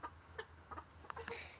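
Hens cluck softly in a backyard coop, with short scattered calls and a few sharper squawks over a low background hum, fairly quiet and close by.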